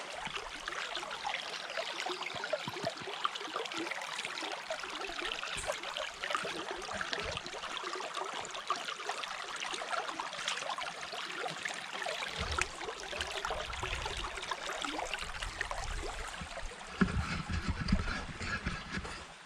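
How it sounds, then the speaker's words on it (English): A creek flows with a continuous soft rushing and trickling wash that holds steady throughout, faint and outdoors, with some low rumbling bursts near the end. "That should be able to hear some sounds from the creek"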